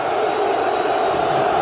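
A Turkish football stadium crowd roars steadily for an Ankaragücü player. The noise is a dense, unbroken wash of sound that holds at the same level throughout.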